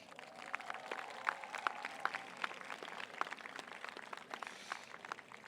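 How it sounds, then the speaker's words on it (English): Applause for the teachers rises from a graduation crowd at Lodi High School, a thin, distant patter of scattered clapping that carries on steadily without voices. "how about we give a round of applause for all of your teachers"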